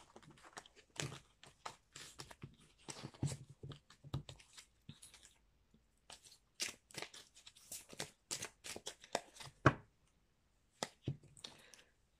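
Oracle cards being cut and handled, giving a run of crisp, papery snaps and shuffles in irregular bursts, close and fairly quiet, with brief pauses between.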